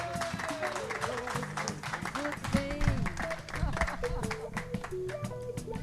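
Audience applause fills a museum hall of fame ceremony as a guest is welcomed, dense steady clapping from a crowd with voices mixed in throughout.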